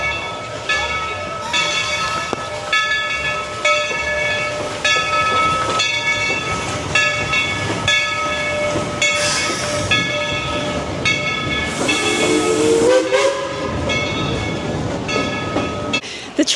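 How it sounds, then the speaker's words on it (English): A Dollywood steam train rolls past at close range, steady rumble and clatter with sustained tonal whistle-like lines, a hissing burst near the end, and faint voices mixed beneath. "I hear the train. We might get a train."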